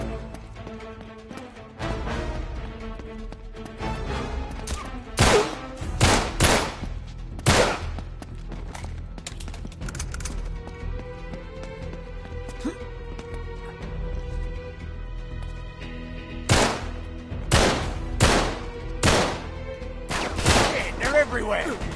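Gunfire crackles through an ambush in a shooter video game, with scattered single shots and rapid clusters of bursts over tense background music, alongside voices talking.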